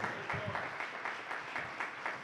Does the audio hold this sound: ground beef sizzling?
no